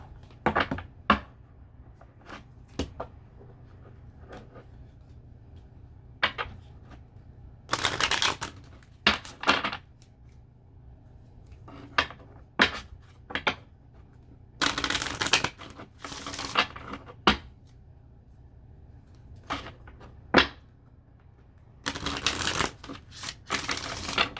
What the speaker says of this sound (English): let's go ahead and pull some oracle cards for your lessons or lesson.